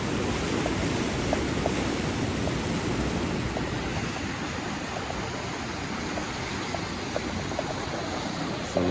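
Floodwater from Hurricane Melissa pours across a washed-out road at Flatbridge, making a steady, loud, unbroken rush of churning water close by with no voices.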